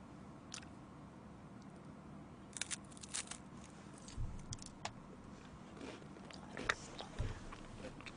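Honey eaten off a metal spoon, with soft close sticky mouth sounds, smacks and a few clicks of the spoon scattered over a quiet background and no talking.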